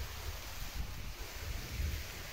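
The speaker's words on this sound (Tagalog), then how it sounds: "Mahangin pa rin, kagaya din nung last Sunday." Wind buffets the microphone with a continuous low rushing roar, gusting slightly, with no voices, at a seashore at low tide.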